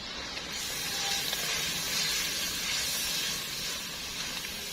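Spices with red chilli powder frying in oil for Punjabi chicken pulao, giving a steady, close hiss and sizzle that holds throughout without pause.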